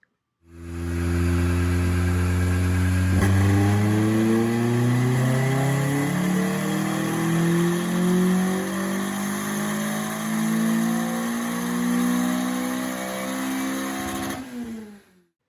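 A K24-swapped 1995 Honda Civic revs on a dyno, its four-cylinder engine climbing steadily through the gears in one long loud pull before cutting off sharply.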